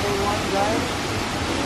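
Steady broadband rush of a waterfall in Cebu, Philippines fills the short clip, a constant roar with faint voices mixed in underneath.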